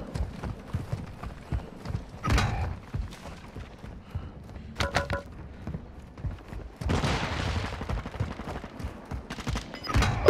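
Video game gunfire from Modern Warfare 2 erupts in scattered bursts of rapid shots and clattering, with louder dense volleys near the end, mixed over busy in-game background noise.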